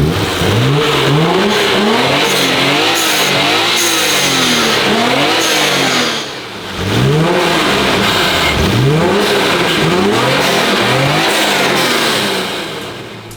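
An HKS-modified Nissan R33 GTR engine roars loudly and close by, blipped through repeated rising and falling revs with a short dip near the middle, with no voices over it.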